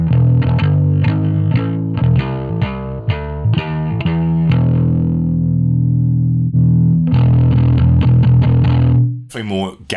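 Heavily distorted high-gain bass riffs through a Two Notes Genome amp modeler, thick and gritty, played in bursts with a pause in the middle, loud and up front.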